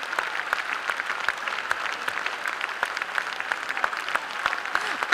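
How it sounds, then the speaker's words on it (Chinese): A hall audience claps steadily for a Chinese traditional orchestra, drum troupe and their teacher after a 2009 concert, a continuous even patter of many hands with no talking. "感谢大家，我们再热烈掌声感谢我们重振鼓乐团以及我们邱长风邱老师。"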